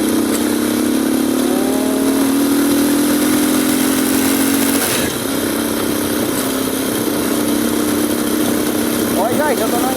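Motorcycle engine labouring loudly after a downshift to second gear on a ride, a steady strained drone with a rising pitch, continuous throughout with wind rush and talk over it.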